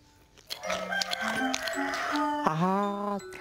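A rooster crows on a farm, several loud, drawn-out cock-a-doodle-doo calls in close succession, with no talking.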